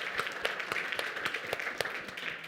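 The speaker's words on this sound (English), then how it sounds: "please join me in giving a big round of applause." After a conference panel discussion on populism in Europe, an audience gives fairly quiet applause, with distinct individual claps popping out over a soft, continuous patter.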